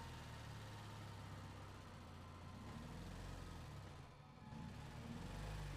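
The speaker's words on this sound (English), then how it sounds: "Oh, a tractor." A tractor engine in the Resident Evil 4 video game runs with a steady low rumble, holding near-constant loudness throughout with a brief dip toward the end.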